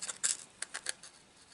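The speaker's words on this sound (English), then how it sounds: "my hands are crinkling this up with a noise, sorry about that" Hands crinkle plastic parts from a 15mm Flames of War Hornisse/Nashorn model kit, giving a handful of sharp, close crackling bursts that thin into faint rustles.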